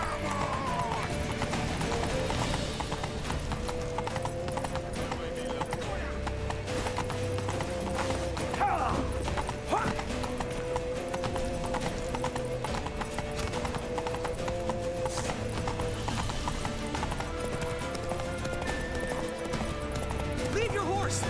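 Horse hooves clip-clop at a steady gallop in Witcher 3, with a brief whinny, running continuously under game music and a voice talking over it.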